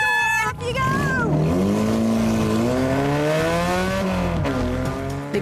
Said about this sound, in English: That really sounds like a racing car